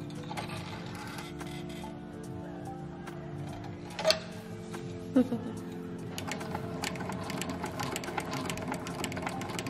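A sewing machine stitches leather straps for handmade high heels, making a soft mechanical whir with ratchet-like ticking and a couple of sharper clacks, mostly steady throughout.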